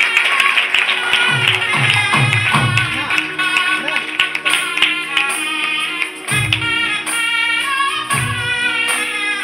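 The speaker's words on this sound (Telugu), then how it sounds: "ఒకసారి చప్పట్లు కొట్టండి." Wedding guests clapping in rhythmic bursts during a Telugu ceremony, set against loud music with steady drum beats and melody.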